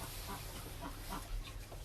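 Backyard chickens cluck softly in a low, continuous murmur, faint and close, with no talk over them.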